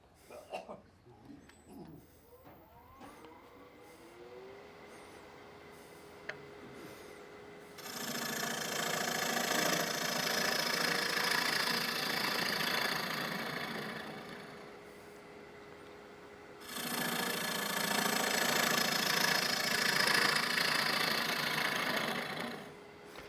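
Wood lathe hollowing out a wooden yarn bowl, a steady broadband scraping hiss with a faint motor hum that runs in two long, fairly loud passes, with quieter workshop handling sounds between them.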